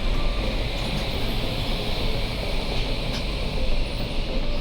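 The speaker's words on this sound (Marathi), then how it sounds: "पनवेलवरून आपली ट्रेन सुटलेली आहे आणि आता पुढचा प्रवास आपला चालू आहे" A continuous low rumble and rushing roar of a train departing Panvel, steady and fairly loud, with no voices.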